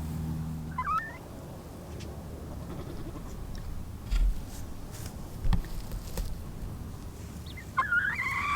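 Chickens kept in a backyard pen give a few short, rising calls near the start and end, over a quiet outdoor background with occasional low thumps.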